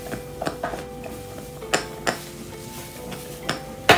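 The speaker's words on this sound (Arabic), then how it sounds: "وبنحرك" A utensil clinks and scrapes against a bowl in uneven strokes while stirring yeast and oil for luqaimat dough, with sharper taps now and then, close by and without talk.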